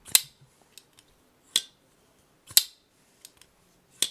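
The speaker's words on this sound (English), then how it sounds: "So it's not loud, which is impressive for a knife this big." A large custom pocketknife, the CKF Justice 2.0, opened and closed repeatedly, giving sharp quiet metallic clicks and snaps at irregular intervals, close up, between near silence.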